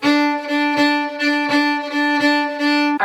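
A fiddle plays a steady jig rhythm up to speed, notes falling in a regular lilting long-short-medium pulse, close, bright and even in loudness, heard alone.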